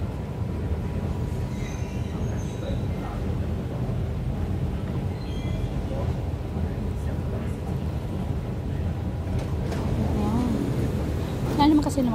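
An MRT train in Manila gives a steady, rumbling roar that fills the whole stretch, with a brief louder surge near the end.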